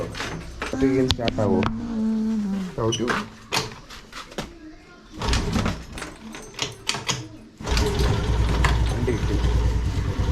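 Someone starts a motorbike after refuelling it with leftover petrol. Mechanical clicks and short bursts come first, then the engine catches into a steady, loud idle for the last few seconds, with voices nearby.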